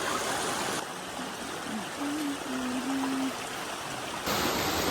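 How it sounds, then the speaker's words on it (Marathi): A forest stream flowing along a trail near Bokadkada waterfall, a steady broadband rush of water that is close and fairly loud, with a faint tonal hum and a brief voice-like murmur midway. "ह्याच्या पुढची वाट आपल्याला पूर्ण ओढ्यातून चालत जायचं"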